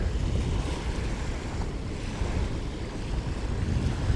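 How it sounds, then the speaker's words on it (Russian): Strong wind buffets the microphone by the sea near Saint Petersburg, with waves surging in a continuous rough roar at moderate loudness. "Ветер, чтобы вы понимали, насколько сильный ветер."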